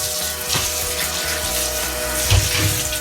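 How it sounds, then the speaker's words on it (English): Tap water running steadily into a sink while celery is washed, a continuous close splashing hiss with small bumps as the stalks move under the stream. "So go ahead and give your celery a nice wash like usual."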